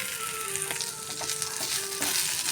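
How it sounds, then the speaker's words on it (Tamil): Drumstick leaves sautéing in a pan give a steady, close sizzle with a few soft stirring clicks, no voices. "அதனால் கொஞ்சம் நேரம் வதங்கட்டும்."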